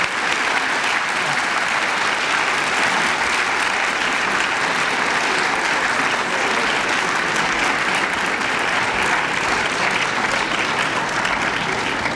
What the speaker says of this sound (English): Let's give Mr. King and our community supporters one last round of applause.